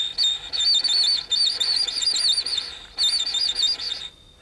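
A violin plays a rapid two-note trill very high on its top string, imitating birdsong: bright, fast warbling phrases in several bursts with brief pauses, close and fairly loud with no talking.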